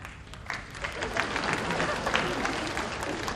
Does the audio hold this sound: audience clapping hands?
yes